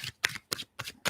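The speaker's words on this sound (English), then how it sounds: "I'm going to shuffle again." A deck of tarot cards is riffled in quick, close bursts, four or five crisp fluttering shuffles with short silent gaps between them.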